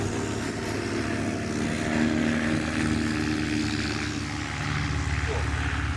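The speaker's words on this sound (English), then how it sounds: "Cessna 185 on active floats." Cessna 185 floatplane flying at Oshkosh, a steady droning propeller engine with a low, buzzing hum; voices murmur faintly in the background.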